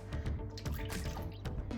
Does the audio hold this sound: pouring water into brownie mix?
yes